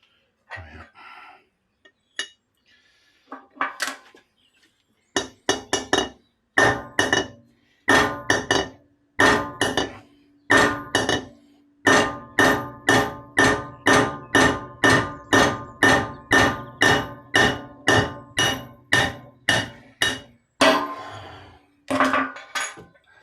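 Hammer bashing a steel punch to drive out a fuel injector sleeve from a Citroen 2.0-litre cylinder head; sparse blows at first, then a long run of fast, steady, ringing metallic strikes, loud and close.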